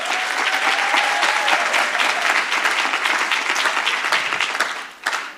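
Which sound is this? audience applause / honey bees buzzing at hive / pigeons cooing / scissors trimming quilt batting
audience applause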